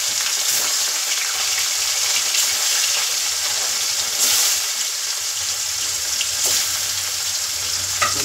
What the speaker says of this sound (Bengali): বাটা মাছটা ভাজা হতে থাক